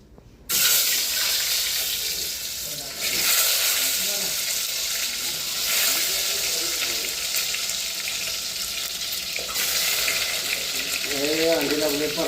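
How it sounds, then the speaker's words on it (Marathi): Eggs fry in hot oil in a pan for a village-style egg curry, a steady close sizzle and crackle that runs throughout, with a voice briefly heard near the end. "त्या तेलात आता ही अंडी परतून घ्यायची."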